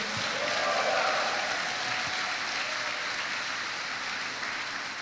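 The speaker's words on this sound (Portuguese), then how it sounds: "Quantos podem aplaudir a Ele e dar um grito de júbilo a Ele?" A church congregation bursts into loud, sustained applause during a service, a dense, continuous roar of clapping that slowly eases over several seconds.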